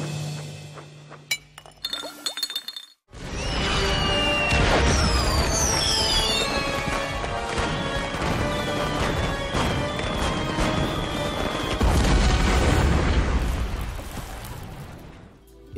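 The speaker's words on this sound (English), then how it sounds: "Crybaby Clown to escape and blow up a fireworks shop" A cartoon fireworks shop blows up: after a brief pause, a sustained roar of explosions layered with shattering, tinkling glass and whistling, crackling fireworks fills the scene loudly and without letup.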